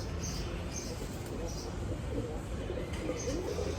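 Pigeons at a breeder's loft coo softly in a few short, repeated calls, faint and close, over steady low background noise.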